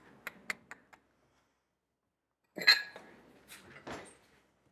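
A small bowl is handled in a home kitchen, first a few light taps and clicks, then silence, then a louder ceramic clatter and a ringing knock as it is set down, close and clear.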